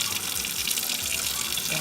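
Hair dye water pours steadily down a sink drain in a continuous splashing gush of moderate loudness, heard alone for under two seconds.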